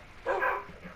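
Dog barking in a Minecraft survival game, a single short, mid-pitched bark heard clearly over a faint steady background.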